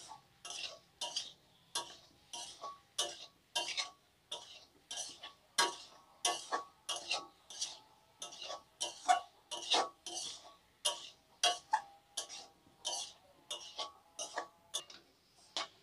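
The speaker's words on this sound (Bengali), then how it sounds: "বেগুনটাকে আলুর সঙ্গে ভালো করে মিশিয়ে নেব।" A spoon scrapes and stirs cut brinjal with potatoes and spices in a pan, giving a steady series of sharp rhythmic clinks and scrapes, close and clear with no talking.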